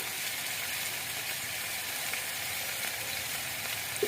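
Taro and malabar spinach stalks fry in spiced oil with salt, a steady close sizzle running throughout with faint scrapes as they are stirred, ending in a small clink.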